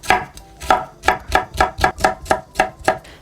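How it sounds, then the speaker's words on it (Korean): A knife slices half a red chili pepper into thin strips on a cutting board, about ten crisp, evenly spaced chops in a steady rhythm, close and clear with no talking. "홍고추 반 개도 채 썰어주시면 돼요."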